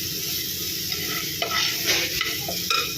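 Gravy masala is sautéed and stirred in a pan, giving a loud, steady sizzle with a few scraping strokes of the spoon rising out of it, close by.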